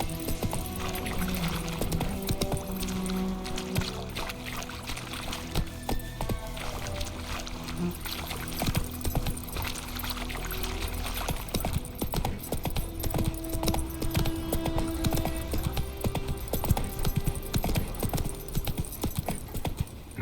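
Hoofbeats of the horse Roach galloping in The Witcher 3: Wild Hunt, a steady clip-clop rhythm running throughout under game music and ambient sound, with some jangling tack.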